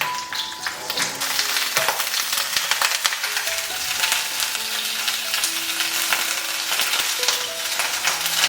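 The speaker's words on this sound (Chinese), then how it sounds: "然后我们来起锅热油，把鸡皮放下来煎一下。" Chicken skin from a free-range chicken sizzles and crackles steadily in hot oil in a wok, a loud continuous frying hiss with scattered pops throughout.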